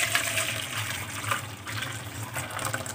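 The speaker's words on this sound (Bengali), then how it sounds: "এই বাটিটার মধ্যে আমি গরম জল আমি ঢেলে দিলাম।" Hot water poured into an empty bowl, heard as a steady, close gushing pour that runs unbroken for a few seconds with no voices.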